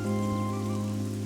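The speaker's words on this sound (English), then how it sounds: "I can't see it well in the rain." Steady rain falls in the video game AI: The Somnium Files, a continuous wash of patter with a sustained low tonal hum from the game's ambience underneath, even and unbroken throughout.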